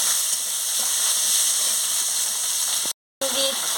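Paneer with spices, chopped ingredients, crushed ginger and green chilli being fried in a pan: a steady, loud sizzle and hiss fills the clip, with a brief gap near the end.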